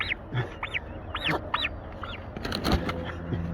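Turkeys among cattle feeders and calves give repeated honking, yelping calls, a handful of rising-and-falling cries spaced irregularly, moderately close, with scuffling and knocking noises toward the end.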